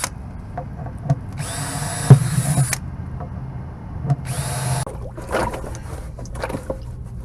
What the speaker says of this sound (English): We like to drill holes in the bottom of these basins